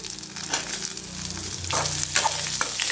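Small and big onions frying in a pan with ginger and garlic for kadamba chutney sizzle loudly and close, with scraping stirs of a spatula breaking in over a steady crackle.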